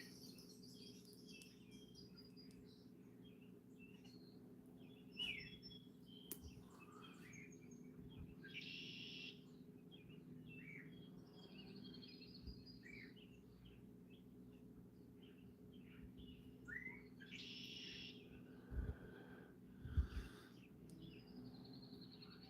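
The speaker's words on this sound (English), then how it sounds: "These birds are so happy." Faint outdoor birdsong on a foggy morning near the ocean: scattered chirps and short tweets over a low steady hum, distant and quiet, with a couple of soft knocks late on and no speech.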